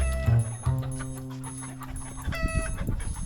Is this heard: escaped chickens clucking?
yes